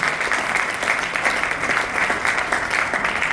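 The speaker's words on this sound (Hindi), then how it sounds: "एक जोरदार ताली होना चाहिए डीएक्सएल के लिए।" An audience breaks into loud, dense applause, a steady wash of many hands clapping together that carries evenly from start to finish with no voices on top.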